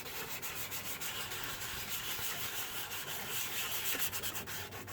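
Sanding an oxidized plastic car headlamp, a close, continuous rasping rub with a quick back-and-forth rhythm throughout, no voices.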